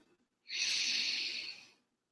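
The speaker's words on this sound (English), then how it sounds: "let's take a deep breath together, breathing in" A single long, deep inhale for a guided breathing exercise, a steady airy breath close to the mic lasting over a second, then silence.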